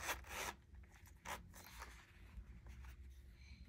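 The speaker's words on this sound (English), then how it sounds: "Let's see how it zips up." A zipper runs around a leather three-pen zip case in terra cotta. It gives several close, raspy pulls and short strokes, with pauses between them, over a few seconds and with no talking.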